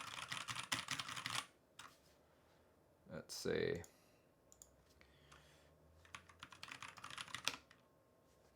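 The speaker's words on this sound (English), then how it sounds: "let's do a typing test" Typing on a KBDFans KBD67 MKII RGB mechanical keyboard: rapid clusters of clacky keystrokes in bursts, close and clear, with a pause and a brief spoken phrase in between.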